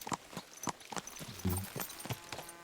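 Horse hooves clip-clop in Kingdom Come Deliverance 2, a run of sharp, fairly close hoof strikes in uneven rhythm with some low rumble beneath.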